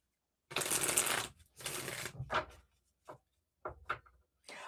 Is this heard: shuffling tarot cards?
yes